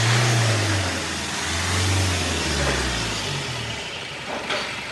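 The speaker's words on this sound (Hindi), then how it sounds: "पूरी रेड लाइन तक जो आरपीएम है वो खींच रही है, 4000 के ऊपर तक आरपीएम जा रही है" Kia Seltos engine, recovered after flood damage, revving hard past 4000 rpm toward the redline: a close, loud mid-pitched roar that climbs then eases off, running alone without talk.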